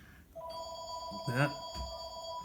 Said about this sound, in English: So pardon the phone.